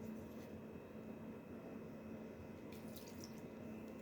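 Water runs steadily from a kitchen tap while Quaker pancake batter is mixed: a continuous, moderately close hiss and splash with no talk.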